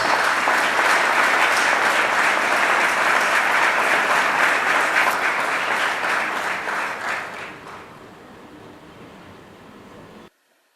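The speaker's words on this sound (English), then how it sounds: "I present to you the Governor of the Bank of Ghana, Dr. Ernest Addison" Loud, sustained audience applause fills a hall at the launch of Direct Savings and Loans Ltd., greeting the Governor of the Bank of Ghana, then thins out and fades to a quieter murmur before stopping abruptly.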